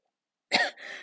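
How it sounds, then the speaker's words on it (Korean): A teacher coughs during a classroom lesson, one sharp close cough followed by a rougher trailing burst, with no talk around it. "선생님이 계속 기침을 해서 미안합니다"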